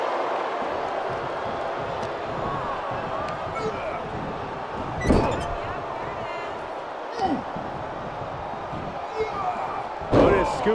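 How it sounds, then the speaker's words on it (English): Wrestler Otis slams an opponent to the mat in WWE 2K23, landing as several heavy thuds over a steady crowd roar, with excited commentary running throughout. "Otis scooping up his opponent for the slam"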